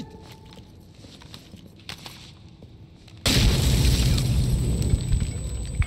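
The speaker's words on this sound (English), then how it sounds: "I'm throwing a grenade!" A grenade goes off in Insurgency: Sandstorm, a sudden loud broadband blast that cuts in after quieter gameplay noise with scattered footsteps and thuds, then sustains as a heavy rumbling roar to the end.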